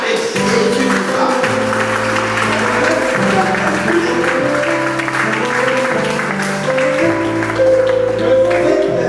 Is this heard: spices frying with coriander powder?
no